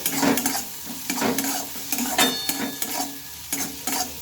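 Leftover rice being stirred and fried in a pan with cumin powder and chili powder, a steady sizzle broken by repeated scraping strokes of a spatula, close and fairly loud.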